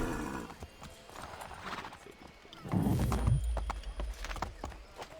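Horses in the Assassin's Creed III video game: steady clip-clop of hooves with snorting and a loud neigh partway through, close and prominent, with soft game ambience behind.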